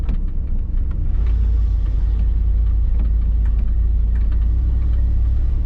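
A 1991 Chevy Silverado OBS pickup drives in first gear, its engine producing a loud, steady low rumble close by with road noise and no talk.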